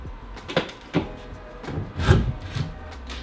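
Wooden knocks and scraping rubs as a plywood cabinet housing a DIY Tesla battery system is handled and opened, a few distinct thumps with a louder clatter near the end.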